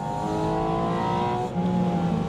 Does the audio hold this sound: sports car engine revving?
yes